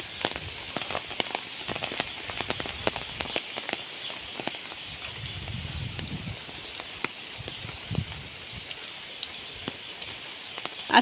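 Rain falls steadily on an umbrella and a home yard during a windy storm, making a continuous patter with sharper drop ticks and soft, muffled footsteps in the middle.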